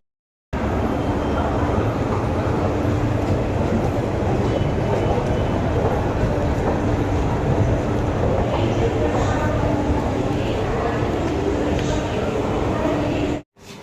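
A metro train rumbles steadily at a metro station in hot weather, a loud continuous roar with a faint hum and squeal running the whole length before cutting off near the end.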